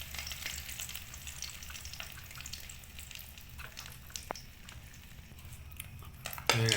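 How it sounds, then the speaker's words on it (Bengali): Egg beaten with onion frying in a pan, a steady close sizzle that runs throughout with faint stirring clinks and a louder clatter of the pan at the very end. "এবার ডিমটা ছাড়বো।"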